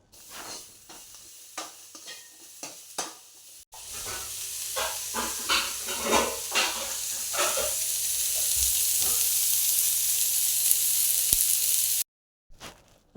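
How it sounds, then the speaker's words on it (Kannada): Onion and garlic fry on a hot tawa, first with scattered stirring clatter and crackles, then a strong, steady sizzle and hiss building before cutting off abruptly. "ಈ ತವೆ ಬನಲ್ಲಿಡು ನೀರುಳ್ಳಿಲ್ಲ ಬೆಳ್ಳುಳ್ಳಿಲ್ಲ ಫ್ರೈ ಮಂತ್ವೆ"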